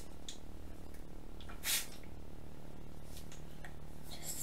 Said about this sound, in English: So I'm going to spray it with a little bit of water.